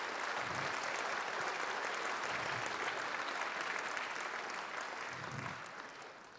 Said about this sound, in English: So a big round of applause, if you don't mind, for all the staff.